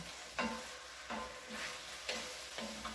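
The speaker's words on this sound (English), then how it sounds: "by stirring the spices around, they heat up in the oil and they release" Ginger, cumin, coriander and red chili spices sizzling in hot oil for a coconut curry, stirred around in a pan with a steady frying hiss and a few soft scraping strokes of the spoon at regular intervals.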